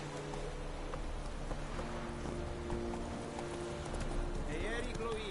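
Horse hooves clip-clopping at a steady walking rhythm in The Witcher 3 video game, heard close under a man's spoken lines and background game ambience.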